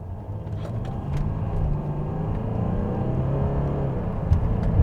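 A Mercedes-Benz CLS350 CDI BlueEfficiency diesel in sport mode under hard acceleration, heard from inside the cabin: a steady low engine rumble building gradually as speed climbs.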